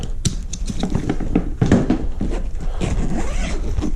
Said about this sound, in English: Unzip both the zippers.